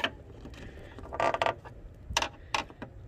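Plastic clips are pried loose from the radiator of a 2005–09 Mercedes-Benz SLK350, giving several short, close creaking snaps in irregular bursts with no talking.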